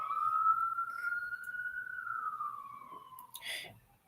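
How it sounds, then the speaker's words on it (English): A single ambulance siren passes by, one long wailing tone rising and then falling away before a brief burst of road noise at the end, heard from a moderate distance with no talk. "Ambulances going past, if you can hear the sirens."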